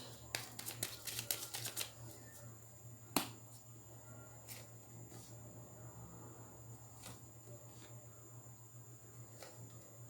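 Tarot cards are shuffled in a quick burst of close, faint riffling snaps at the start, followed by a few scattered soft clicks over a quiet room hum.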